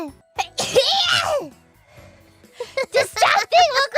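A single sharp sneeze from a woman in a playful livestream, followed and surrounded by lively female chatter.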